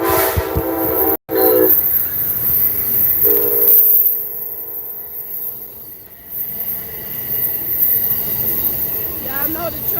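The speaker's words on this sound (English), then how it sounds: "Y'all know the train always have to make an appearance in my videos." A train passes close by outdoors, rumbling steadily with squealing wheels and a blast of its horn, loud throughout, with a voice speaking briefly beneath the noise.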